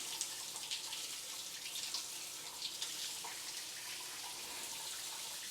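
Water pours steadily from a large 12-inch rain shower head in a bathroom, a soft, even hiss of spray that carries on without pause at fairly low volume.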